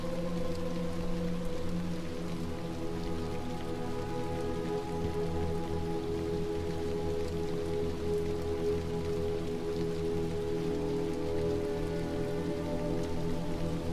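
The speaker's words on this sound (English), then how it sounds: "Back into rain again," Steady rain falls in the video game Little Nightmares 2, a constant even patter and hiss that continues alone at moderate volume with no voices over it.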